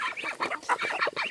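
Farm ducks and geese quacking and honking in a dense, overlapping chorus, nasal calls coming in quick rhythmic bursts, loud and close with no talk.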